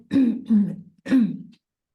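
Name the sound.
cough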